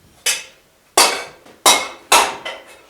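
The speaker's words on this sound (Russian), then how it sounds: "И молоток, который имеет такую немного нестандартную форму." An oddly shaped hammer striking a metal bracer over a bulging form, four sharp ringing blows at uneven intervals, each decaying quickly, loud and close with no talk.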